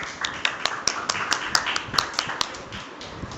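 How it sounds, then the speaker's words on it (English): Sparse, scattered handclaps from a small audience at a physics conference session, with individual sharp claps standing out. The sound is fairly quiet and thin rather than a full ovation. "Please give a big round of applause."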